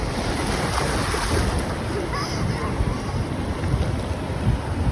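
Ocean waves wash continuously onto a beach, with a broad steady rush of surf mixed with buffeting wind noise on the microphone, loud and unbroken for the whole stretch.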